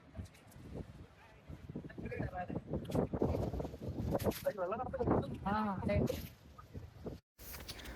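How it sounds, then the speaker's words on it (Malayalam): Strong wind buffets the microphone at a hilltop viewpoint near a reverse waterfall in Maharashtra, a rough continuous rumble under close, loud talking. "കാറ്റ് കാരണം ഞാൻ പറയുന്ന ഒന്നും കേൾക്കുന്നില്ല"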